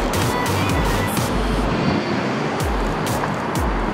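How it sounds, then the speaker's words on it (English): Steady road traffic rumbles outdoors, with low vehicle drones passing in and out beneath a constant broadband wash, fairly loud and continuous. "we're sorry for the traffic noise"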